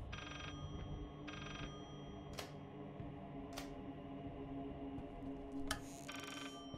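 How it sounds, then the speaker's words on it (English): An old telephone rings in the horror game Layers of Fear, giving short trilling bursts spaced a second or so apart and again near the end, quiet over a low eerie ambience with a few sharp clicks. "Damn phone again."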